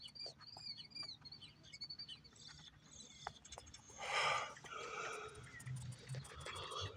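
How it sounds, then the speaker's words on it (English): Small birds chirping outdoors, faint scattered tweets and calls at a distance over quiet ambient background noise. "Birdie's chirping."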